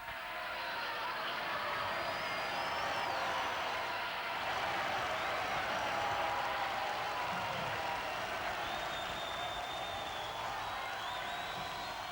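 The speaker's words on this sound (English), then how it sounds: "As the applause rings in his ears" A vast arena crowd applauds at the end of a concert, a steady wash of clapping and cheering heard from a distance that holds at an even level throughout.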